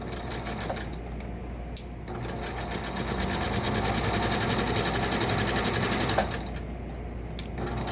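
A sewing machine stitching a fabric seam, fast even needle chatter running close and loud through most of the span, with short pauses and small clicks at the start and end.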